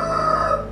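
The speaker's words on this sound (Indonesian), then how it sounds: "Jam 1 kurang ayam berkokok, tandanya melihat malaikat." A rooster crows just before one in the morning: one short, loud, harmonic cock-a-doodle-doo close by, with no other sounds around it.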